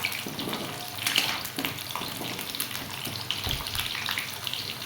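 Amla (Indian gooseberries) frying in a pan, a soft continuous sizzle with scattered crackles and faint stirring scrapes close by, with no voices.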